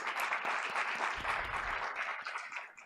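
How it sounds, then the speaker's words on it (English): Audience applause at a school board of education meeting, a dense steady round of clapping from a room of people that tapers slightly toward the end. "Let's give Consul Donado one more round of applause."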